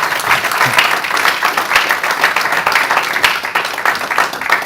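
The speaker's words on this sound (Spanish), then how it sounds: "Vamos, dale fuerte el aplauso a Jesús" A church congregation claps loudly for Jesus during a Spanish-language service, a dense, sustained wash of many hands applauding together with no pauses.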